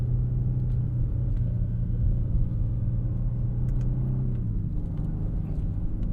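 A 2025 Genesis G80 Sport Prestige rolls through a roundabout, its cabin filled with a steady low road rumble and muted engine hum, with no talk.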